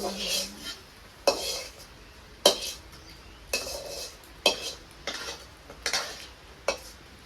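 Vegetable fry stirred in a cooking pan, a spoon scraping and knocking against the metal in regular strokes about once a second over a soft background sizzle, close and fairly quiet, no talking.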